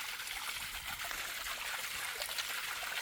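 Pressurised water from a supply line on a rural lot in Borbon, Cebu, Philippines streams and splashes in a constant hiss, quiet and unbroken, with no one talking.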